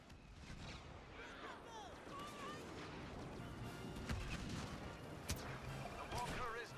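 Airstrike explosions in the video game Star Wars Battlefront, a dense barrage of blasts and crashing impacts layered with gunfire and game sounds, with a couple of sharper booms standing out near the end.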